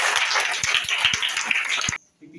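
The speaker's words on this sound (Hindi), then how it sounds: "तो हम चाहेंगे कि एक बार आप लोग के लिए ताली बजाएं बढ़िया से।" Students in a class-6 maths classroom clap together in a burst of lively, overlapping applause. It stays close and loud for about two seconds, then stops abruptly, leaving a faint murmur of voices.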